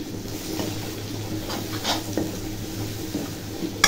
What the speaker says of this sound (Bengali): এখন জিরে দেব, হলুদ, লঙ্কার গুঁড়ো দিয়ে দিচ্ছি। এখন একটু কষিয়ে নেব